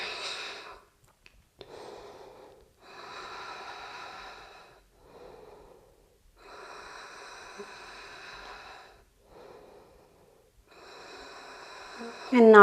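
Deep, slow breaths held in a yoga lunge pose, several long airy inhales and exhales separated by short quiet pauses, close and soft, with a brief louder sound at the end.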